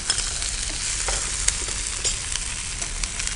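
Onions with ginger garlic paste and turmeric fry in a pan for mutton curry, giving a dense, even sizzle with small pops and occasional stirring clicks, close and unaccompanied by voices.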